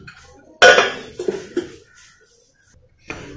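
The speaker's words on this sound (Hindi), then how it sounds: "स्टीम हमारी निकल गई, इसे हम ओपन करेंगे।" Lid of a pressure cooker opened after the steam is released, giving one sharp metallic clank followed by a few lighter clinks and knocks, then a soft final rattle, close by with no talking.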